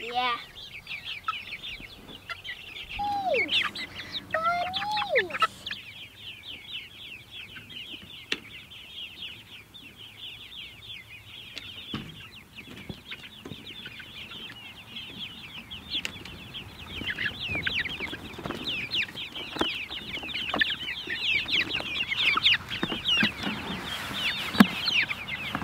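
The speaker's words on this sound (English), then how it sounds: "Chickens are getting big, Penelope." Chickens cluck and squawk repeatedly nearby, with a few brief wing flaps and some human chatter mixed in.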